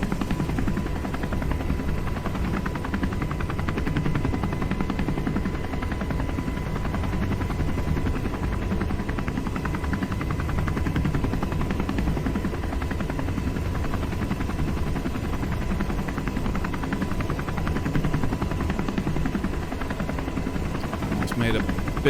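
Helicopter lifting off in a flight sim game, a constant thudding rotor whine and engine drone at steady loudness throughout, with no break.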